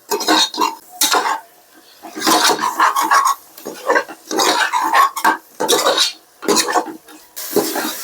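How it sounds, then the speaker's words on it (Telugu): A spoon scrapes and knocks inside a pot of chicken curry with salt in it, in repeated close stirring strokes separated by short pauses. "బాగా కలుపుతూ ఉంటాం"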